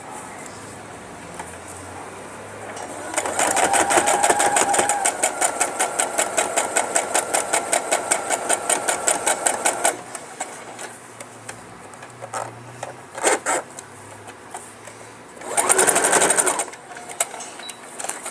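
A sewing machine topstitches the seam along the top of a pocket, running in a long steady burst of rapid needle strokes, then pausing and giving a shorter loud run at the end; it is close and alone.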